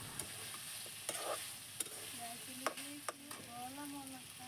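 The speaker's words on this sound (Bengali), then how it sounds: "মাংসগুলো সবজির সাথে দিয়ে আরেকটু ভেজে নিচ্ছি।" Fried chicken meat stir-fried with vegetables in a pan for a noodle dish, with a soft steady sizzle and several sharp scraping and clinking strokes of a spatula, close and fairly quiet, no talking.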